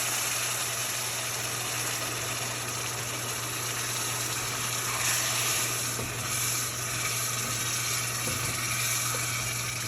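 Semolina halwa sizzling steadily in a hot pan as boiling water is added, a loud continuous hiss with a low steady hum beneath, no voices.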